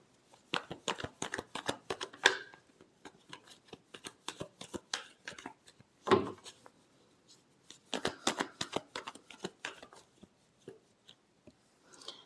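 A deck of tarot cards is shuffled repeatedly, giving rapid papery riffles and flicks in uneven bursts with brief pauses, close and fairly loud.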